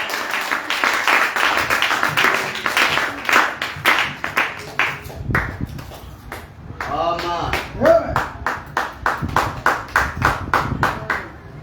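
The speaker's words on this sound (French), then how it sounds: "Est-ce qu'on peut acclamer pour le Seigneur?" A church congregation claps and cheers for the Lord during a Sunday service, with loud rhythmic applause running throughout, briefly thinning before rising again amid voices and cheering.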